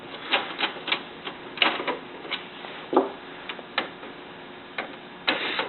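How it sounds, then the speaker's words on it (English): Screws being removed from the white plastic side panel of an HP LaserJet printer: a run of crisp, irregular clicks and ticks, close and fairly faint, with no voices. "we're going to have some screws we're going to want to remove"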